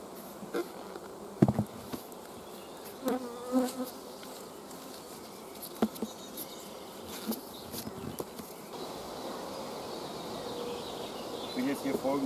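Honey bees buzzing around a beehive stand, a steady insect drone throughout with brief louder passes as bees fly close, some faint speech in the background.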